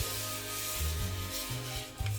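Slow, close rubbing of hands over a head in a relaxing ASMR examination, a soft continuous swishing friction with gentle shifts in stroke every half second or so, no talking.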